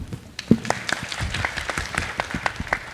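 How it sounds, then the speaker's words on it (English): An audience at a conservation film event applauds, with scattered claps rising into steady applause that carries on for the full stretch at moderate loudness. "Let's have a round of applause for them."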